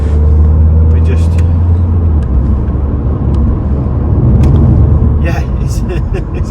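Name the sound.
Volvo V40 Cross Country D3 driving on road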